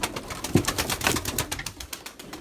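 White pigeons cooing at close range, soft repeated low coos over faint fluttering and background noise.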